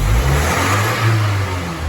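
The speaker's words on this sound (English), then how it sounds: "Let's check out the exhaust as I give it a rev here." A freshly rebuilt 1985 Nissan 720 pickup engine revs through its exhaust on first start, a loud, close rumbling roar that rises and falls in a couple of swells with no talking.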